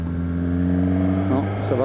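A Suzuki Katana motorcycle with a GSX-R engine cruising gently on an open road, its steady low engine drone and wind rumble running throughout, with a brief rise in pitch near the end.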